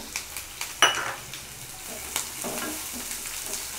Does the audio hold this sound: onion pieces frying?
yes